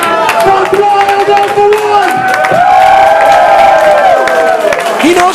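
A wrestling crowd at an Alpha-1 Wrestling live event cheering and whooping loudly, with shouted voices rising and falling over a roar of applause, close and continuous.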